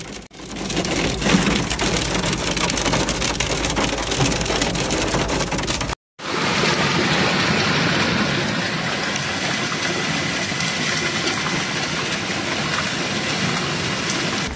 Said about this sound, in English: Thunderstorms rolled across the state, bringing with them giant hail, destructive winds and heavy rainfall